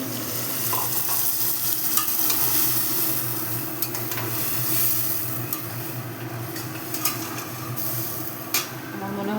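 Water from rinsing a bowl hits a hot pan while cooking pointed gourd in mustard-poppy paste, producing a steady, close sizzle over a low hum, with scattered sharp clicks and pops.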